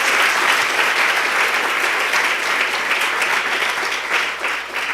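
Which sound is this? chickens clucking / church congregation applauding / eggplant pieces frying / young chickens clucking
church congregation applauding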